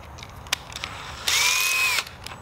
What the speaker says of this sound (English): countersink bit, and it just, just makes it a bit deeper.